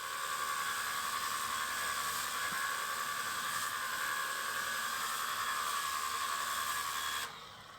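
A Makita DHW180 cordless pressure washer runs with a steady, loud hissing spray and motor whine that holds constant for several seconds before cutting off abruptly near the end.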